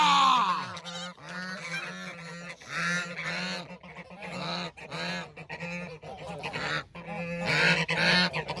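Several geese honk loudly and repeatedly close by, overlapping calls in irregular bursts with short gaps between them.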